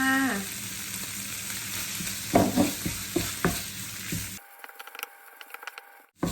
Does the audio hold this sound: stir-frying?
yes